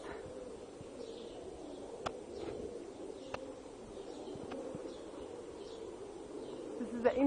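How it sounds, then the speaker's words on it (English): Pigeons coo softly at the Ramesseum, the temple of Ramesses II in Egypt, a low murmuring under faint outdoor ambience with occasional light clicks and a brief louder call at the end. "And the birds."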